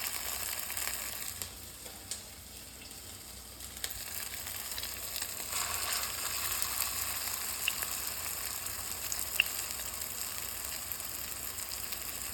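Lentil fritters (bora) spiced with ginger, black cumin and turmeric fry in hot oil, giving a steady, close crackling sizzle that runs throughout with a few brief louder pops and scrapes.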